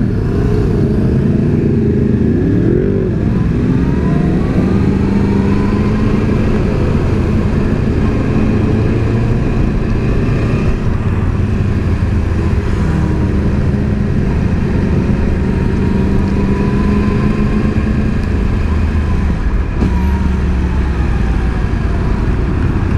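More than ten motorcycles ride together on a road in Singapore, their engines a loud, steady, continuous drone with shifting revs and wind rush throughout.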